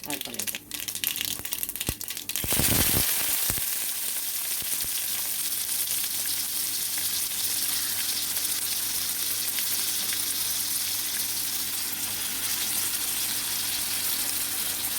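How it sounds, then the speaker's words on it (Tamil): Mustard seeds, onion and dried chillies fry in hot oil with a continuous close sizzle, after a burst of crinkling and clatter at the start. "இப்போ எண்ணெயை ஊற்றியாச்சு கடுகை போட்டாச்சு இந்த வெங்காயத்தையும் காஞ்ச மிளகா இதெல்லாம் இதில்"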